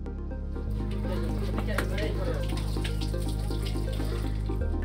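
Tap water runs steadily at a latrine handwashing station in an emergency-setting learning center, a continuous close splashing stream under a low mechanical hum.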